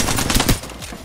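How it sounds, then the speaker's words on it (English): Rapid automatic gunfire from the Apex Legends video game rattles in a close, loud burst of shots, then cuts off into quieter game sounds. "My man put 20 bullets in them."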